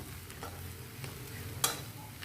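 A spoon stirs grated papaya thoran frying in a pan, with a soft, faint sizzle underneath and a few light scraping taps, including one sharper clink.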